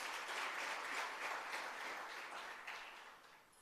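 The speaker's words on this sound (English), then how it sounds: "Can we give her a round of applause?" An audience at a skills development capacity building workshop applauds a senior manager in a broad, even wash of clapping that fades slightly toward the end and sounds distant and faint.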